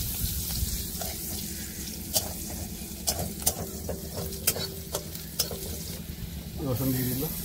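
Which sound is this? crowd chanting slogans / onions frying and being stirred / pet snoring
onions frying and being stirred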